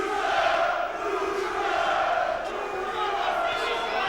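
Boxing arena crowd at a Ross Hale vs Andy Holligan fight: a dense, continuous roar of cheering and shouting spectators that holds steady without a break.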